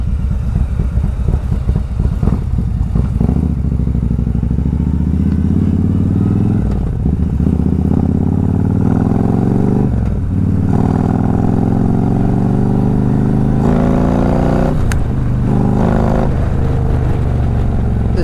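A motorcycle engine roars loudly and continuously on the road, its pitch repeatedly climbing as the rider accelerates, with occasional clattering thumps underneath.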